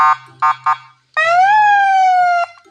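Three short electronic chirps from a car siren horn, then a long wailing siren tone that rises and holds before cutting off, loud and close with no talking.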